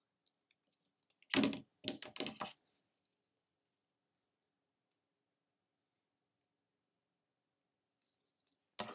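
Ribbon being trimmed into points with scissors: a quick cluster of crisp snips and rustles in the first half, then near silence, with a few faint clicks toward the end.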